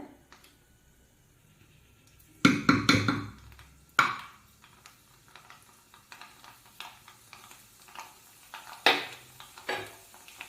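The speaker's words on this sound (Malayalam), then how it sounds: "അപ്പോൾ എണ്ണ നല്ല ചൂടായപ്പോൾ ഞാൻ അരി ഇട്ട് കൊടുത്തിട്ടുണ്ട്." Rice hits hot oil in a pan with a sudden loud sizzle, then crackles on as it fries, with spoon scrapes and stirring bursts recurring close by through the rest.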